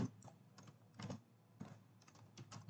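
Python code being typed on a computer keyboard, with irregular bursts of close, quick key clicks in clusters and short pauses between them, with no talking.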